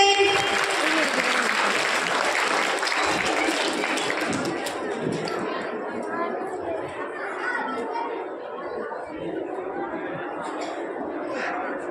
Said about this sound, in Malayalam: ഒരു നല്ല കയ്യടി കൊടുത്തേ.